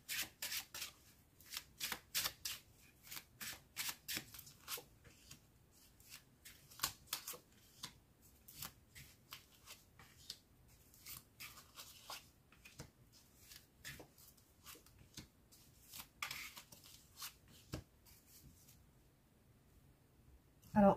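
Tarot cards shuffled by hand in a quiet room, with repeated soft riffling bursts in uneven rhythm that thin out toward the end, close and fairly faint.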